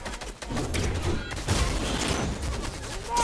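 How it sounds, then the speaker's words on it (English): Dense rapid gunfire in the Fortnite battle royale video game, a loud continuous fusillade of shots lasting a few seconds, close and overlapping, with almost no talk. "Oh no, I'm getting shot at."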